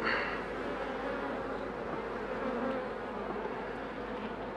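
Honey bees buzz in a dense, continuous hum during a beehive inspection, with frames and a queen excluder opened, close and steady throughout.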